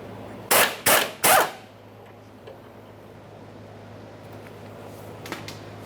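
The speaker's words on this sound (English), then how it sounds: "We'll remove this 14mm headed mounting bolt as well." A 14mm headed mounting bolt on a fuel tank strap of a 1994-1997 Honda Accord is loosened with a power tool: three loud, rapid bursts close together, then near quiet with a few faint ticks.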